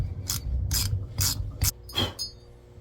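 A ratchet wrench fitted with a 5/16 socket clicks in five quick, close bursts of ratcheting on a KTM 300 TPI engine top end during teardown.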